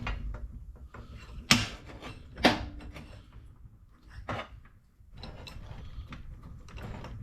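A bench vise in a workshop is cranked and adjusted, giving a series of metallic clunks and ratcheting, grinding clicks, with two sharp louder knocks early on and scattered scraping mechanical noises afterward, close up and without talk.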